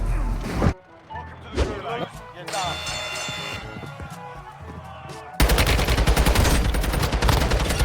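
Gunfire from an STB556 (AUG) rifle in Call of Duty Warzone Mobile, with sharp shots and bursts, a crash, and a dense loud stretch of rapid fire near the end, while a player talks excitedly over the action.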